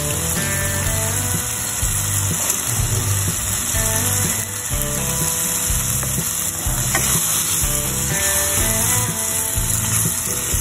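Vegetables, the stems first, stir-fry in a pan for spicy seblak, a loud continuous sizzle with repeated rhythmic scraping of a spatula against the pan, no voices.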